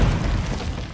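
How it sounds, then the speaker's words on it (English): A Semtex sticky grenade detonates in Call of Duty Modern Warfare 2 multiplayer, a single close, loud, low booming burst that fills the whole second and rolls on without fading. "Throwing Semtex."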